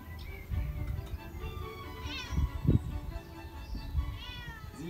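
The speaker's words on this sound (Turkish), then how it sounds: "Yaklaşık 10 dakikadır burada miyavlıyor." A cat meows repeatedly outside a closed door at night in a Greek town near Meteora, a series of close, plaintive calls over a faint background hum, with no talking.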